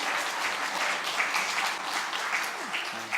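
A church congregation at a Sunday worship service applauds in a dense, steady wash of clapping that fills the space without a break. The sound is fairly loud, and a voice is faintly audible underneath.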